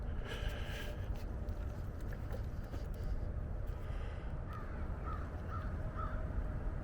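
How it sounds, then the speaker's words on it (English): Crows cawing outdoors in a wet, muddy park at Valley Forge, Pennsylvania, a few short calls near the end over steady wind or background noise, fairly faint. "Lots of birds."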